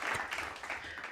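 A few people clap their hands together during a casual podcast recording: a short, faint burst of uneven claps that fades after about a second.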